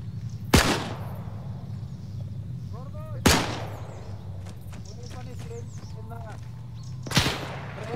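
Three sharp, loud gunshots in a World War II video game, spaced a few seconds apart and echoing over a steady low rumble, with speech nearby.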